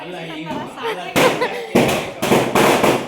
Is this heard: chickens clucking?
no